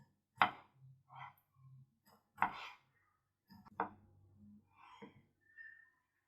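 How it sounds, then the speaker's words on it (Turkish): Several separate knife cuts through peeled kiwi on a board, slicing it into rings, sharp and close, spaced out with pauses and soft handling noises between them. "Kivilerimi soyuyorum güzelce ve halka halka doğruyorum"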